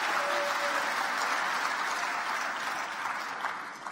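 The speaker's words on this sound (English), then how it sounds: "we'd like to give a round of applause for that" Applause from the audience at the opening ceremony of the YouthConnekt Africa Summit 2024, honoring the sign language interpreters; dense, steady clapping from a large crowd fills the whole stretch, easing slightly toward the end.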